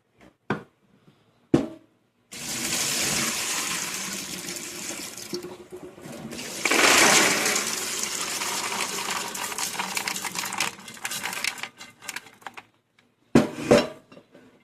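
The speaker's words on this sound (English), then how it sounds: "Alright, so I just strained them. Now I'm just going to give them a good rinse." Soaked black beans are strained and rinsed under running water, with brief metallic clanks of a strainer and pot framing a long, loud rush of water and clattering beans.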